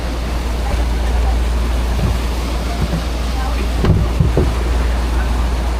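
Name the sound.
boat engine running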